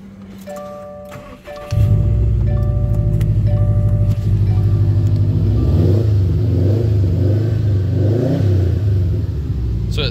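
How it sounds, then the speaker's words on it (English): A 2015 Subaru WRX STI engine cranks and starts with a sudden roar, then settles into a loud, steady, rumbling idle close by. "I'm gonna go ahead and turn it on so you can hear it."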